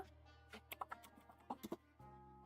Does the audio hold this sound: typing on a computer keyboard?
yes